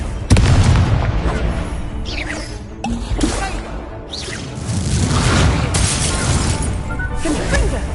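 Confringo blasting-spell explosions from Hogwarts Legacy burst loudly one after another, booming impacts and crackling debris layered over continuous rumbling battle noise.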